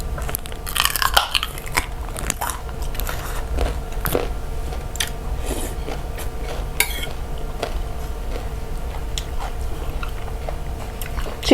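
Someone eats khanom jeen nam ngiao, Thai rice noodles, close to the microphone: repeated moist chewing and soft crunching bites, with occasional light clinks of cutlery against a dish.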